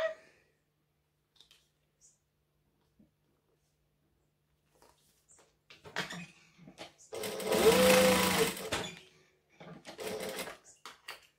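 A sewing machine chain stitching with contrasting thread runs in short bursts after a quiet start, with one louder sustained run in the middle and softer clicks around it, close by.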